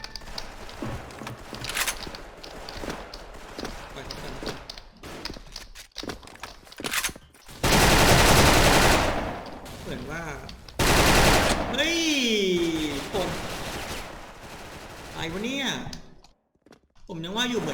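Gunfire from the Special Force (SF) online shooter game, with rapid automatic bursts and scattered single shots of varying loudness, mixed with game effects and occasional talk from a player.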